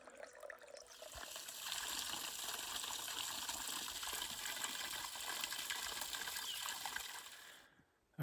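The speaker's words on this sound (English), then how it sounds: "we just got nice cold water from that spring you saw" Cold water from a mountain spring on the Pacific Crest Trail runs in a steady, close trickle and splash for several seconds, continuous and fairly loud, with no voices.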